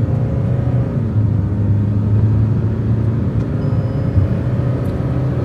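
A Hyundai Creta and a Kia Sonet drag racing, with a continuous loud low engine and road rumble throughout, no voices.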